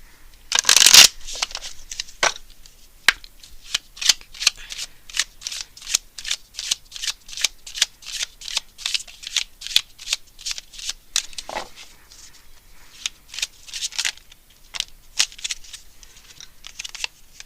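Tarot cards are shuffled by hand, one long riffle burst followed by a quick steady run of crisp card slaps and flicks, close and clear, with no talking.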